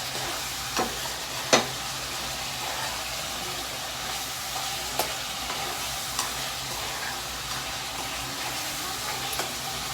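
Chicken curry masala fries in a pan with a constant dense sizzle, broken by occasional sharp clinks and scrapes as it is stirred, close and fairly loud, with no talking.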